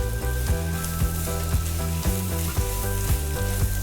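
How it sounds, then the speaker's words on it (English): Bitter gourd and onions sauté in oil in a hot pan, a steady close sizzle with a few soft stirring scrapes and pan clinks at intervals, no talking. "Allow this to saute for some time."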